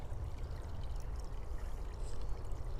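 Faint trickle of running water flowing beside a woodland trail path, a steady, soft, continuous wash with no other sounds standing out.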